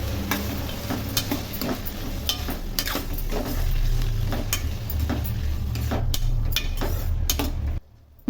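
Tomatoes fry with onions in a pan, a steady sizzle broken by repeated stirring scrapes and clinks against the pan, with a sudden stop near the end.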